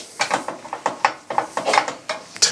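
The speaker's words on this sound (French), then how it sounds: "Donc on va le passer au broyeur. Donc c'est une vieille machine." An old hand-cranked almond grinder with two marble rollers, grinding an almond mixture into powder, gives off rhythmic, repeated clacking and grinding strokes, close and clear with no talking.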